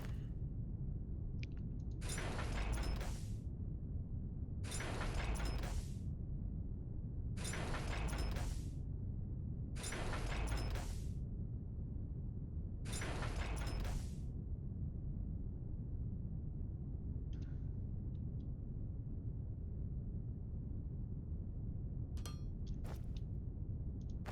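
Assembly-line welding machines in the Foundry factory game fire in five evenly spaced bursts of bright, hissing crackle, each about a second long, over a steady low industrial hum, with a few faint clicks afterward.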